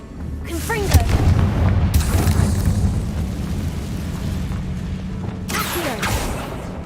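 A Confringo blasting spell erupts in the Hogwarts Legacy video game with a deep, sustained booming rumble, punctuated by sharper bursts near the start and again toward the end, all at close range.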